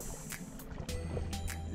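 Quiet canoe paddle strokes dip and splash in calm water between Babara and Tombowala, Sierra Leone, a few soft splashes spaced through a low background hiss.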